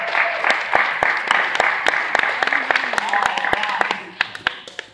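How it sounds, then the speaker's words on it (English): A child at a Tae Kwon Do belt test applauds himself, a run of sharp separate claps close by over a murmuring room, with adults speaking across it. "he's applauding himself again."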